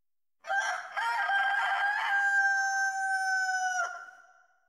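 A single rooster crow, long and drawn out with a bright harmonic tone, sounding somewhat distant, trailing off at the end with no other sounds.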